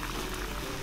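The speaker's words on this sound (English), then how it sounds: "What we're gonna do next is boil this for about 5 to 10 minutes to get all those flavors into the water" Water with chopped mint leaves boils steadily in a pot, a dense continuous bubbling hiss with no talk.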